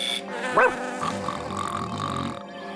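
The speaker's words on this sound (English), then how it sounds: "John accidentally got programmed with the sound of Odie barking." A single short bark-like yelp rings out near the start, followed by a low hum and faint background noise.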